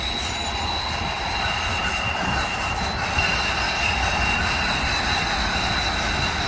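An elevated train rumbles steadily nearby in Boyle Heights, Los Angeles, wheels grinding and squealing faintly over a continuous heavy roar.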